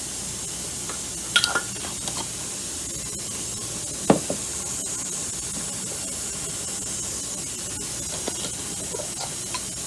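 Steady hiss of steam venting from a pressure canner holding fresh-picked green beans. A constant broad rush runs throughout, with a few faint clicks and clinks from the kitchen over it.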